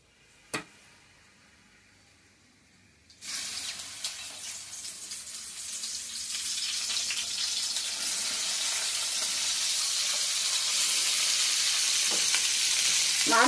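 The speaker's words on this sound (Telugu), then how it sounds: "సిమ్లోనే పెట్టుకొని వేయించుకున్నాము" Cut okra hits hot oil in a pan with a sudden burst of sizzling that settles into a steady, strengthening crackle over low heat, with no voices.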